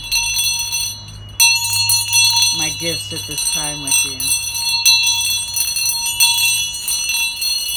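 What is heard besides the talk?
bell being rung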